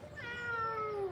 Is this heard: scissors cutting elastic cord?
no